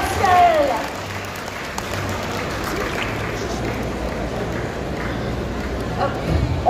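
An audience at a cosplay contest applauds a cosplayer, a broad, steady wash of clapping and crowd noise that runs the whole time, with a brief voice near the start.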